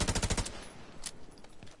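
A World War II Thompson submachine gun fires in a video game: a loud, rapid burst of about eight shots in the first half-second, followed by fainter scattered game sounds.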